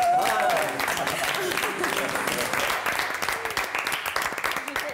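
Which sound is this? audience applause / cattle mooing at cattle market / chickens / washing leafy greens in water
audience applause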